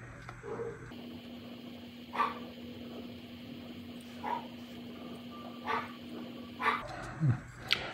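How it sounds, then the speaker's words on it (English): A dog barks in the background in a few short, scattered bursts, faint and some distance off, over a steady low hum in a quiet room. "I don't know if you can hear the dog in the background,"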